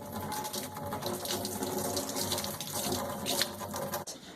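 Tap water runs steadily onto a stick being wetted for making rock candy, a continuous close splashing stream with no talking.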